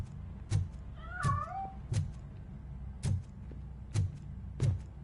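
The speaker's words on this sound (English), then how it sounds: "That cat must be hiding inside." In the action game Robocop Rogue City, a cat gives a brief wavering meow amid a series of regular soft thumps and knocks as it flees, all fairly close over a steady low background rumble.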